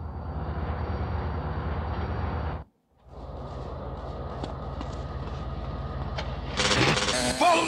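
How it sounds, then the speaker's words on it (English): A train rumbles past in GTA San Andreas during the Wrong Side of the Tracks mission, a loud, steady low roar that cuts out briefly, then returns with clanking and hissing toward the end. "Follow that train!"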